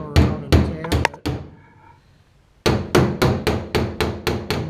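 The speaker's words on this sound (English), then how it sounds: "I just take my body hammer and I go around and tap" Body hammer tapping on the sheet-metal door panel of a 1966 Ford Galaxie 500 convertible under restoration, sharp close metallic taps in quick bursts, a short pause, then a steady run of about eight evenly spaced strikes.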